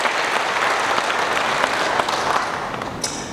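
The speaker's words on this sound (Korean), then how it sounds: "우리가 이 두 분을 큰 박수로 환송을 해드려야 되겠습니다" Applause from an audience at an anniversary general assembly, sending off two guests: dense, steady clapping throughout, loud and close, easing slightly near the end.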